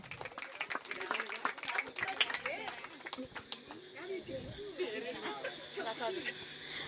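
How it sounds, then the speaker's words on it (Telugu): An audience claps at a church Christmas skit, with a burst of scattered hand claps that thins out as voices talk over it. "అందరూ చప్పట్లు కొడదాం"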